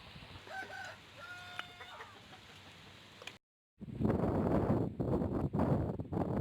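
Chickens clucking with a rooster crowing at a home kitchen in Tamil Nadu, several short calls early on, then a brief silence followed by louder wind-buffeted microphone noise.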